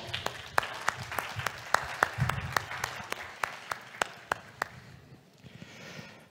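A small panel audience claps in a sparse, distinct rhythm of individual sharp hand claps, moderately close, before fading out after about five seconds.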